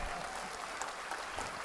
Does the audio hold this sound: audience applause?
yes